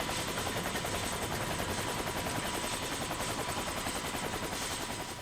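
A rescue helicopter sets down on a hospital helipad, its rotor thudding in a fast, steady beat under a loud, continuous engine whine that stays close and unbroken throughout.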